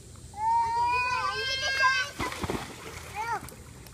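A child dives into water with one loud splash, following a stretch of excited children's voices close by in a playful pool setting.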